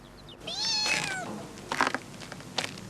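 Several cat meows, one long drawn-out mewing call followed by shorter, rougher cries, fairly close in a quiet room with no talk.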